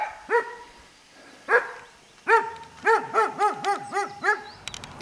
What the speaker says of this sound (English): Here's my ancestral dog barking at me.